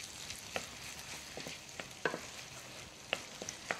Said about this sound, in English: So give this a good stir